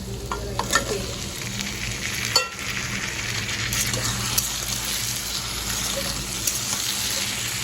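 Washed potatoes fry in a pan of cooked-down spice paste for a fish dish, a steady close sizzle broken by scraping stirs and a few sharp clinks of a utensil.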